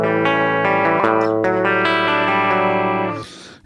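A Les Paul guitar played through a '59 Fender Bassman on a clean setting rings out in sustained, overlapping chords for about three seconds before fading, with no talking.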